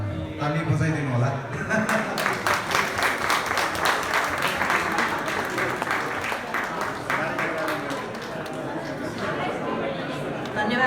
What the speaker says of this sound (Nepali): ताली बजाइदिनु होला।